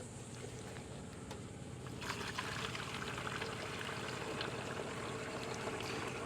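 Water pours steadily into a backpack sprayer tank, a continuous close splashing rush that grows a little fuller partway through, with no voices.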